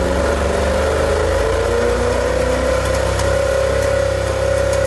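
Close and loud, an abandoned Ferrari F40's engine runs roughly, holding an uneven, droning note for several seconds.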